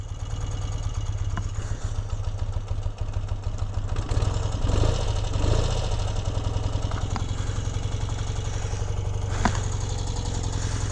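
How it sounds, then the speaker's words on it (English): A 1972 BMW R50/5 motorcycle idles with a low, steady, even exhaust burble, close by and fairly quiet, with a few faint clicks and a brief swell in engine note partway through. "Listen to the exhaust on this thing."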